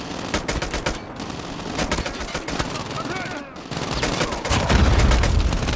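Rapid automatic gunfire rattles nonstop in a 10 vs 10 team deathmatch on Call of Duty Mobile, loud close bursts overlapping with distant shots, while voices shout over the firefight.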